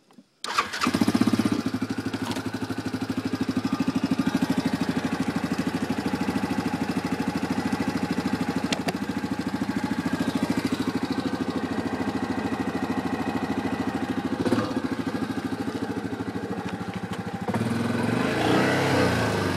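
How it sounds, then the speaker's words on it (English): A 2009 Yamaha Grizzly 550 ATV engine cranks and catches, then runs steadily at a close, loud, even drone with small shifts in pitch as it rides off, with no one talking. "now we're gonna take the 2009 Grizzly 550 for a ride"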